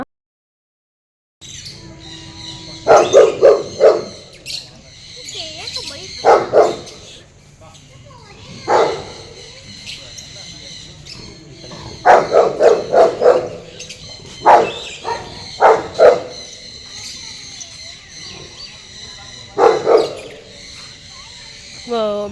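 Several dogs bark loudly in clustered bursts, with yips and whimpers mixed in, pausing briefly between volleys.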